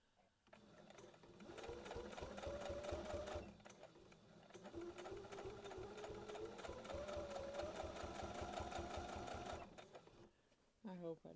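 Close, steady stitching from a sewing machine working on a reversible bucket hat, running in two long bursts with a brief slowdown between them, its motor pitch rising and falling, then stopping near the end.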